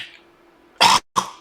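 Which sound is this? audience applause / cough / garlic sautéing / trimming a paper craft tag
cough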